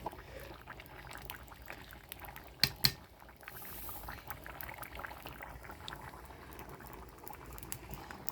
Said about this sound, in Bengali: সেই লাউ দিয়া গরম মাছের মাথা দিয়া রান্না হচ্ছে